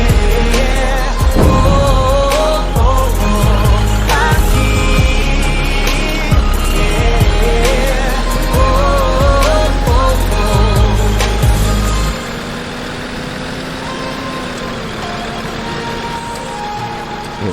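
Scania 113 cab-over truck on a road trip, its engine brake giving a loud, continuous low drone with rough rattling pulses for about twelve seconds, then easing to a quieter steady rumble.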